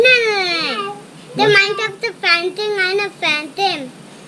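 A voice imitates a cat, drawn-out meow-like cries repeated several times in a row, close and clear.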